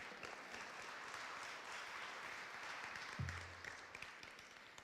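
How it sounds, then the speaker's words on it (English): Applause from an awards ceremony audience, an even wash of clapping at moderate distance, with a short low voice breaking in near the end. "And applause to those two individuals."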